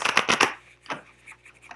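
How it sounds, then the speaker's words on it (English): A quick riffle of tarot cards shuffled up close, followed by a few softer, scattered card taps and slides. "Few shuffles"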